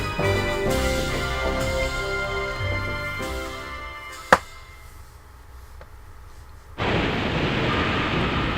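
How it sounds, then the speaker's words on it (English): Thunder and lightning in Yu-Gi-Oh! Duelists of the Roses, a single sharp crack over dramatic music, then a quieter stretch before a loud rushing rumble of storm noise takes over. "Whoa, thunderbolts and lightning, very, very frightening."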